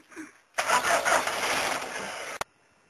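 Rebuilt engine firing up for its first start, a short burst of cranking then a rough catch and roar for about two seconds before cutting off abruptly, with a faint voice before it.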